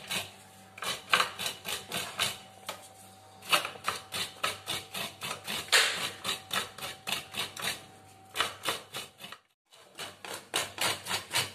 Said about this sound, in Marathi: आपण एक खोबरं आहे ना ते किसून घेऊया